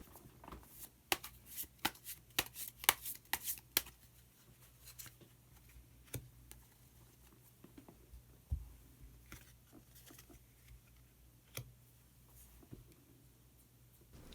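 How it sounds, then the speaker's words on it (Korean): Tarot cards shuffled and drawn by hand, a series of sharp papery flicks and slaps clustered early, then sparser single card snaps and soft handling over a low steady hum. "그러면은 히든 카드를 한 장 더 뽑아보도록 하겠습니다."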